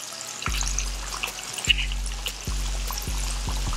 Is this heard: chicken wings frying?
yes